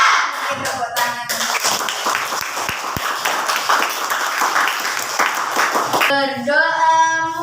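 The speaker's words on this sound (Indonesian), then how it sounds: "Oke, tepuk tangan." A Grade 5 classroom of students claps together in a quick, loud burst with some rhythmic patterning, and a brief tonal voice sounds near the end.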